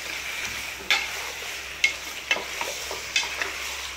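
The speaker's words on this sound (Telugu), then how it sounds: "చికెన్ని మంచిగా కలుపుకుందామండి. అల్లం పేస్ట్ మంచిగా చికెన్కి పట్టాలి." Chicken coated in ginger paste is stirred in a hot frying pan, with a steady gentle sizzle broken by several sharp scrapes of the spoon against the pan at irregular intervals, close up and with no talking.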